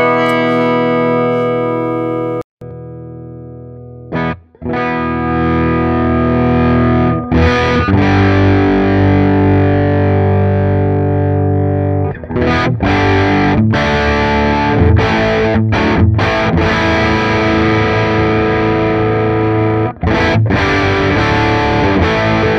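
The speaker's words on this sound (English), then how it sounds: "Let's take a listen to how it's sounding with the effects loop send into the interface." Electric guitar run from an amplifier's effects loop send straight into an audio interface, playing loud, heavily distorted chords and riffs with brief pauses between phrases, continuous and close with no talking.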